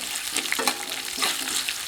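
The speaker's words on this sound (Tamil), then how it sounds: "ஒரு பெரிய வெங்காயம் நீளவாக்கில் நறுக்கி வச்சுருக்குங்க இதை சேர்த்து வறுத்து விட்டுக்கலாம்" Onions and chana dal sizzle and crackle steadily in hot oil, with occasional stirring scrapes, close up and with no voices.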